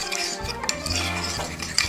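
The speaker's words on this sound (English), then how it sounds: "And just mix that up." Wine vinegar basting sauce for Jamaican barbecue pork tenderloin being stirred in a bowl, with close scraping and light clinks of a utensil against the dish, continuous and fairly loud, no talk.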